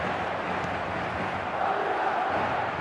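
A stadium crowd in the eFootball soccer game produces a steady, broad roar, a constant wash of massed voices at moderate level without distinct peaks.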